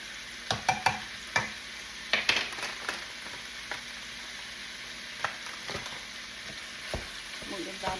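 Yellow curry powder, a full tablespoon, is stirred into a sizzling frying pan, with scattered clicks and scrapes of a utensil over a steady soft fry.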